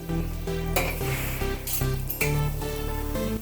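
Gulab jamun fry in hot oil in a pot, a close, constant bubbling sizzle under repeated metallic clinks and scrapes of a slotted spoon against the pan.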